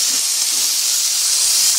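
Engine coolant boils over in a car motor, likely with a cracked head, releasing a loud, steady, close hiss of escaping steam that never lets up across the short moment.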